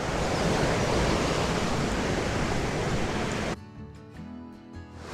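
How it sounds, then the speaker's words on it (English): The main falls of a waterfall, seen on a landscape photography outing, pour down in a loud, steady rushing roar that cuts off abruptly partway through, leaving quieter background sound. "there's the main falls, I would say, coming down there"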